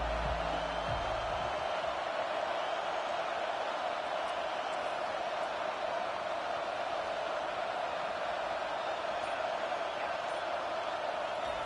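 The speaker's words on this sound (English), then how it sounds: "This crowd bringing an ear-splitting welcome to their visitors." A loud stadium crowd at a football game keeps up a steady, dense roar of cheering that holds at the same level throughout.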